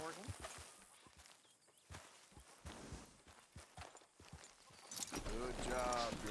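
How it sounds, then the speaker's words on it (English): Horse hooves clop at a walk in the video game Red Dead Redemption 2, soft irregular steps approaching a hitching post, ending with a snort or whinny near the close. "Okay, got a horse over to the hitching post."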